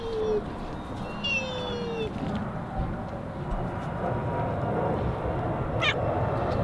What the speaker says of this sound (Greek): Γατούλα!